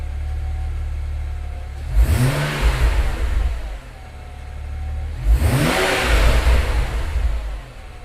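A BMW 335i with an N54 engine and hybrid turbos revving twice on first start, each rise swelling into a loud throaty induction roar before settling back to a low idle rumble, close by, no wastegate rattle.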